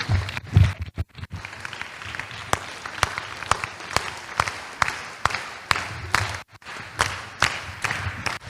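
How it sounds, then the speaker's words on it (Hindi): Scattered clapping from a seated audience at a school session, a few separate claps and thuds standing out sharply against a sparse room background. "इसके लिए तालियां होनी चाहिए, सही में तालियां होनी चाहिए"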